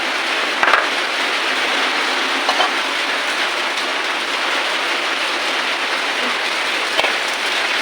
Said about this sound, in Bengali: বলতে বলতে বৃষ্টি নেমে গেল